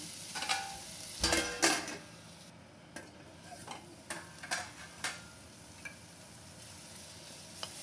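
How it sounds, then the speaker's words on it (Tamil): Onions and tomatoes sautéing with salt in a pan for a cauliflower masala gravy, with a spoon stirring in scattered scrapes and soft taps over a low sizzle, no talking. "வெங்காயம் தக்காளி வதங்கிட்டு இருக்கு"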